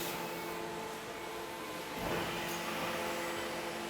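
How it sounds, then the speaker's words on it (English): A new welding cell for steel beams up to 760 mm wide runs in a factory hall, giving a steady mechanical hum and whine with a brief louder surge midway. "Matthias Leitner, he's just working on our new welding cell"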